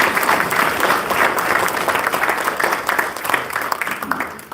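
Steady, dense applause from a live audience, loud and continuous for the whole stretch, with a few voices faintly mixed in under the clapping.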